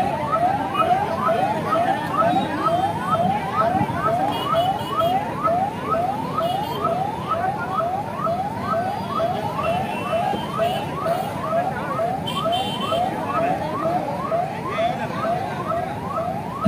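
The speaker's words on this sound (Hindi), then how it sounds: "आप देखिए किस प्रकार से एम्बुलेंस निकल रही है।" An ambulance siren wails continuously in a fast, repeating rising sweep as the vehicle pushes through a crowd at a political rally, loud and close, over a steady hum of crowd and traffic.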